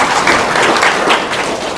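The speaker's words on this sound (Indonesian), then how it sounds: "Tepuk tangan dong" A small audience claps in a short, lively burst of close, fairly loud applause, with a few heavier thumps mixed in and no talking over it.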